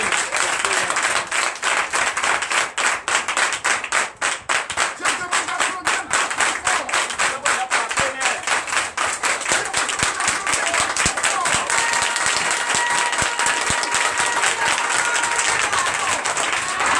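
A church congregation at a Sunday service in Benin claps loudly and continuously, a dense, close wash of many hands that carries on for well over fifteen seconds.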